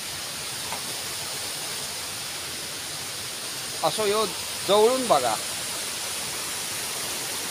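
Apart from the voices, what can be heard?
waterfall at Ozar cave, Malvan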